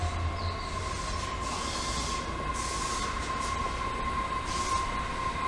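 Steady rumble of a Tokyo train ride between Hamamatsucho and Akihabara, with constant wheel and car noise, a sustained high squeal, and faint hissing swells, heard from inside the carriage with no talking.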